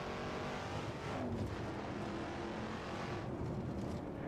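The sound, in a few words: Shelby Cobra 427 engine at full throttle, Assetto Corsa video game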